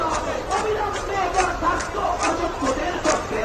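Teachers protesting in front of the School Service Commission office raise a loud, dense crowd roar of shouting and chanting, swelling in rhythmic bursts without letup.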